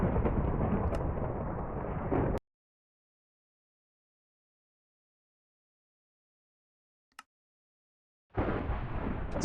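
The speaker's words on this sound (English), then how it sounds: "if you can hear me over the ridiculously loud thunderstorm" Heavy thunder from a Minecraft thunderstorm: a loud, dense rumbling roll that cuts off abruptly, a stretch of silence broken by one brief crack, then the booming rumble returns loud.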